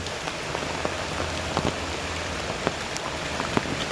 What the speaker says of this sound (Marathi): आज खूपच पाऊस आहे खूप म्हणजे खूप